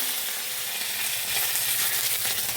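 Mustard seeds and curry leaves sizzle in hot coconut oil in a pan, giving a steady, loud, close hiss with faint crackle throughout and no voices.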